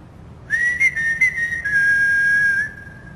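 A person whistling a single sustained tone in a quiet room, wavering slightly at first then holding steady for about two seconds before stopping, clear and close.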